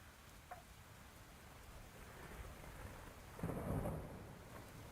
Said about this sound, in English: they even made thunder sound effects and everything for this storm